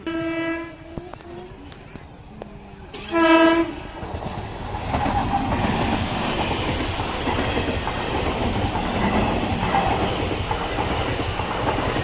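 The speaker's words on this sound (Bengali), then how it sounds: "কোন দিক দিয়ে ট্রেন আসবে" A train passes a railway crossing near the Dahapara halt; its horn sounds twice in ringing blasts early on, then a loud, steady rumble of wheels and wagons rolls on close by.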